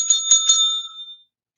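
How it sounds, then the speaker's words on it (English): A hand bell at a live cooking demonstration rings three quick times, bright and metallic, its tone ringing on and fading out within about a second, alone with no talk. "I have my bell."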